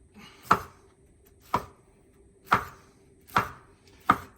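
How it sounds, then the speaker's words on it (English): Pineapple being cubed with a knife on a cutting board, five crisp chops at a slow, fairly even pace, each sharp and close, with quiet between them. "You're kind of like cutting them in cubes, right? Yep, just cubing them."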